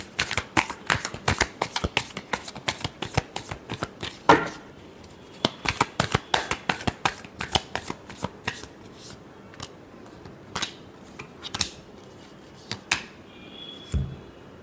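Tarot cards are shuffled close up in a rapid run of crisp riffling slaps, then a slower scatter of individual card flicks and taps.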